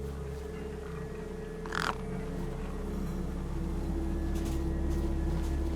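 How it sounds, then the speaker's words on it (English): Crows gather over a corpse in the video game Beyond a Steel Sky, giving one short, distinct caw against a constant low electronic hum, followed by fainter calls later. "No way I was going to get between those birds and their feast."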